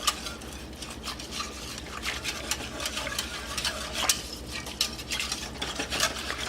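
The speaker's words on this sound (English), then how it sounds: "I'm gonna dump in the rest of my Parmesan cheese that I have in here. Whisk that in." Parmesan cheese being whisked into a garlic mac and cheese sauce in a pan, with steady scraping and stirring strokes and a few sharper clinks of the whisk against metal, close and continuous with no talking.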